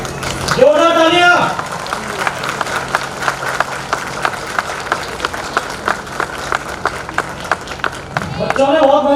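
An audience at a 2019 Ambedkar Jayanti event claps loudly in a steady, rhythmic beat, with an amplified voice talking just before and after the clapping.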